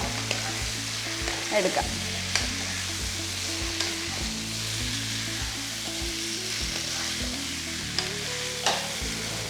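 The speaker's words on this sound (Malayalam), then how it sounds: "നന്നായിട്ടൊന്ന് ഫ്രൈ ചെയ്തെടുക്കുക. ഹൈ ഫ്ലെയിമിലായി ഇപ്പോൾ ഇട്ടേക്കുന്നത്." Chicken fries on a high flame, a loud continuous sizzle with rhythmic stirring thuds and scrapes in the pan; a voice briefly says a word near the start.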